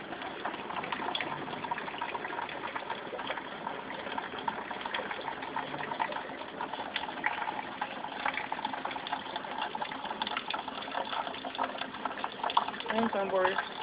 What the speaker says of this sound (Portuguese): Um tambor enchendo, o outro tambor cheio, tambor de 50 litros.